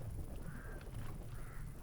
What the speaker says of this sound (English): Crows? Really?